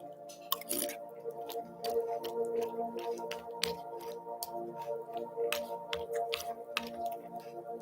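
Close, wet crunching and squishing of generic honey-nut O-shaped cereal being chewed, steady soft bites with occasional sharper clicks, heard alone without talk.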